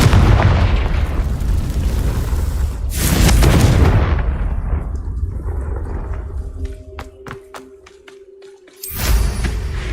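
A Confringo blasting spell explodes in Hogwarts Legacy with a loud, deep boom and a rumbling tail of debris, followed later by a second sharp blast near the end.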